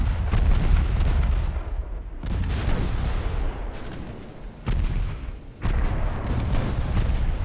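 Heavy battleship main guns firing high-explosive shells in Ultimate Admiral: Dreadnoughts, a sustained, loud barrage of overlapping booming salvos with brief lulls between volleys.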